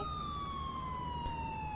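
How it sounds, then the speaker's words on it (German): An ambulance siren in the video game GTA IV holds a steady, loud, slowly falling electronic tone over engine rumble. "Sirene angemacht."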